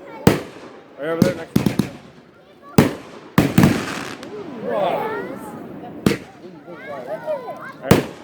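Fourth of July backyard fireworks, loud sharp bangs and crackles going off close by at irregular intervals, with whistling and fizzing between them and people talking and shouting over the blasts.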